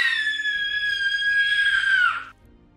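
A single loud, sustained scream from one person holds a high shrill pitch for about two seconds, then breaks off and drops away into quiet.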